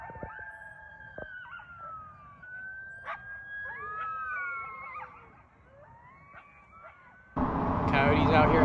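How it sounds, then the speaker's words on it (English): Coyotes at Lake Perris, California, howl and yip in overlapping wavering, gliding wails, moderately distant and clear over a quiet early morning, until a loud rushing noise cuts in near the end. "Coyotes out here howling."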